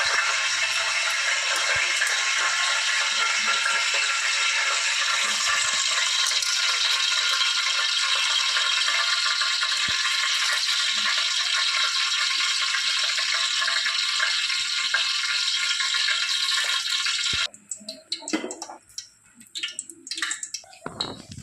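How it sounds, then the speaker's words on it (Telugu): Rice poured into a pot of boiling water for mutton dum biryani gives a steady, loud broadband hiss and bubbling that runs unbroken, then cuts off abruptly near the end, leaving scattered soft clatters and rattles. "ఇప్పుడు రైస్ వేసేద్దాం."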